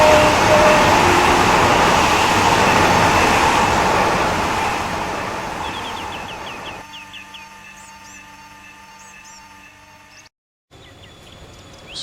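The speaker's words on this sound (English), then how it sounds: "The approaching train is not scheduled to stop at the station." A train in the Roblox game Ro Scale Railway rushes through a station without stopping, a loud rumbling pass that fades away, followed by quieter chirping ambience and station hum.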